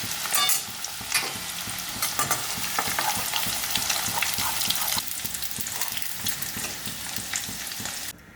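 Potatoes fry in oil in a pan during home cooking, a steady loud sizzle and crackle with stirring clatters throughout, no talking.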